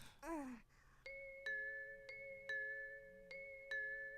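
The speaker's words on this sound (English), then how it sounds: "The bell kept ringing." An electronic doorbell in the game Little Busters chimes repeatedly in a steady rhythm, about six two-tone dings, after a brief vocal sound at the start. Quiet, slightly distant.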